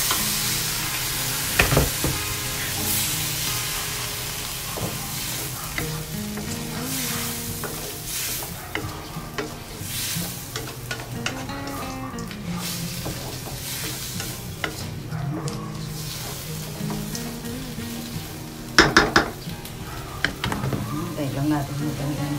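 Shrimp frying in butter and garlic in a pan, a steady sizzle under repeated scraping stirs, with a couple of sharper utensil knocks and a person talking at times.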